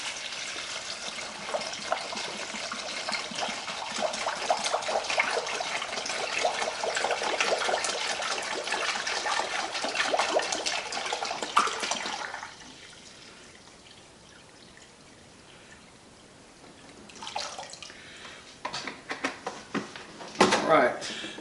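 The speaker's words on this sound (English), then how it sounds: "we're going to pour in our 1 gallon" About a gallon of warm tap water pours steadily into a bucket for a Metal Rescue rust-removal soak, a continuous splashing rush for roughly twelve seconds before it stops, followed by quieter handling knocks and a person talking.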